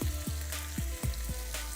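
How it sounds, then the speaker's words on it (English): A pork chop sizzles steadily in a hot pan, a continuous close frying hiss with no talking, broken by several low rhythmic thumps. "when it's sizzling, you know it's good"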